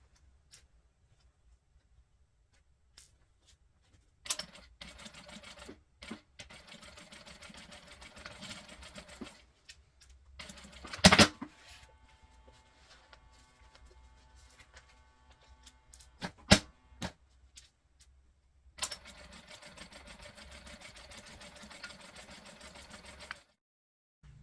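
Domestic sewing machine stitching a bag handle in several runs of rapid ticking whir separated by pauses, with sharp handling clicks and bumps between bursts, fairly close and moderate in level.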